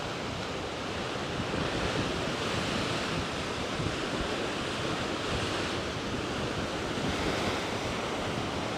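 Ocean surf roars at Khao Laem Ya National Park, Rayong, Thailand, a constant, broad rush of breaking waves, loud and unbroken, with a windy hiss over the top.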